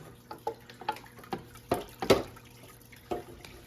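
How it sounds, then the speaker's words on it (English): Aquarium fish net swished through water to rinse thawed frozen fish food cubes, soft quiet splashes and drips repeating irregularly, close and faint with no voices. "We're just gonna take the net and then gonna swish it around in here."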